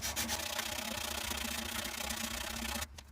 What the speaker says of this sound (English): So I'll quickly sand it. I'm using a 120 grit sandpaper,